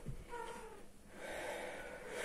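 A cat recovering after surgery makes soft, strained breathing and snorting sounds, with a brief faint moan-like meow, quiet and close.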